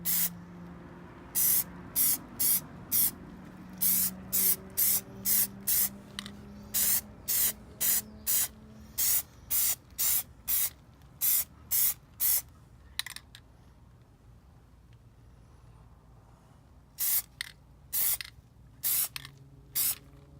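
Plasti Dip rubber coating is sprayed onto a Toyota Prius wheel center cap outdoors in hot weather, in many short, sharp aerosol bursts with brief gaps between them.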